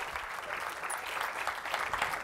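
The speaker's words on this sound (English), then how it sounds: "give them a round of applause" Audience applause at a motivational speaking event, a steady dense patter of clapping that stays even and moderately loud from start to finish, with no voices standing out.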